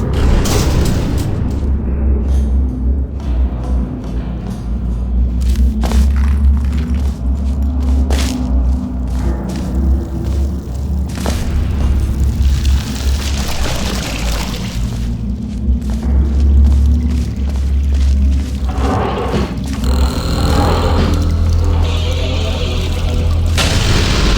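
Explosions boom again and again through the Portal Stories: Mel video game, with crashing rubble and falling rocks, loud and dense over a steady low rumble that runs the whole time.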